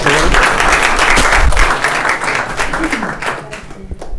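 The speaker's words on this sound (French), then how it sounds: "Est-ce qu'on peut applaudir?" A conference audience bursts into loud, sustained applause that fills the room and tapers off near the end, with some voices mixed in.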